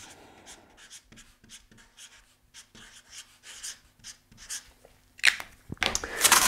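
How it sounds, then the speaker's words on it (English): Pen writing the word carbon by hand on paper, a run of short scratchy strokes close up, louder rubbing toward the end, no talk. "let's write carbon"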